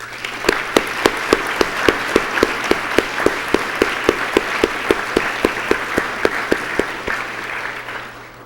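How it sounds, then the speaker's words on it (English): A crowd at a city's State of the City address applauds steadily for several seconds, a dense wash of clapping with a few sharper, louder claps standing out at a regular beat. "Please give all of them a huge round of applause."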